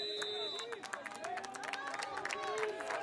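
Football bench and crowd on Holmes Field in a varsity game against Wyoming Seminary, a lively rallying roar of cheers and shouts with scattered clapping, heard from the broadcast position under a commentator's talk.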